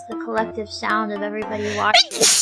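A single sharp sneeze bursts out at the end, right after a stretch of lively talk from a hololive EN/ID VTuber during a game stream.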